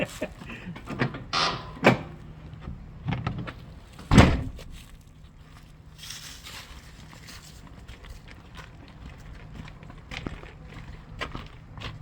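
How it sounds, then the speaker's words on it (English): The electric side luggage door on an MCI coach operates up close in a shop, with a few clunks and a sharp metallic latch or slam near the middle, then a quieter mechanical rumble. "Side electrical door."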